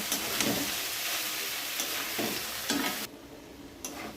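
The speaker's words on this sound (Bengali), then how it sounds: "অল্প করে টমেটো সস এবং সয়া সস দিয়ে দিলাম। দিয়ে এটা ভালো করে ভাজা করে নেব।" Ingredients for eggless home-style chowmein sizzle in a hot pan after tomato sauce and soy sauce are added, a steady close frying hiss broken by scraping spatula stirs.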